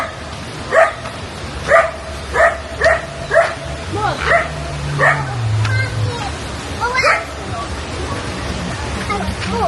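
Several dogs bark in a run of sharp yips and barks, fairly close and loud, with some whimpering, over a background of crowd babble and a low engine-like hum.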